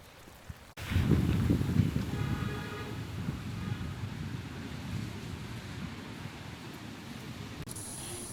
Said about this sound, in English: The rain is so heavy.